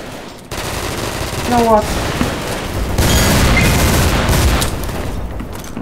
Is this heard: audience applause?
no